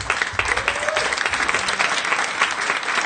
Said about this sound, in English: So big applause for Miguel.